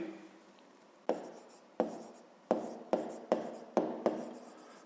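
A pen writing a math answer on paper, close and quiet, with about seven distinct strokes that each start sharply and fade, in a steady rhythm, no talking.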